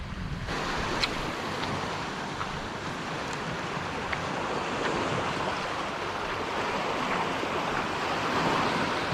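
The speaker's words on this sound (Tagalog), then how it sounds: "Malaki yung gulong ng alon" Steady roar of ocean surf with breaking waves rolling continuously, mixed with gusty wind buffeting the microphone.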